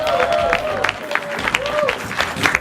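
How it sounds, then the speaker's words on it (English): Audience applause and crowd noise at a speakers' club debate event as speakers come to the stage, with a voice talking over the clapping and some cheering throughout. "So I want you to give your best round of applause again."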